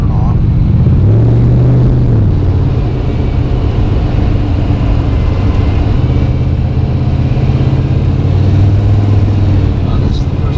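An in-car engine drone from the Phoenix on its first drive in about a year and a half, a steady low hum with a couple of gentle rises in pitch, loud and close throughout, with people talking over it.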